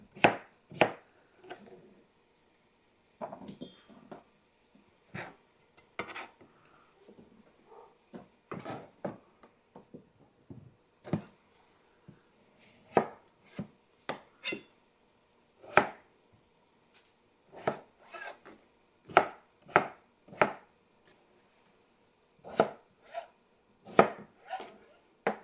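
A knife chops potatoes on a cutting board in an irregular run of sharp, close taps with brief pauses between bursts; no one speaks.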